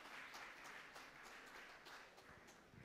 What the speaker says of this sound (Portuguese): Pode dar uma salva de palmas para quem tem título de eleitor.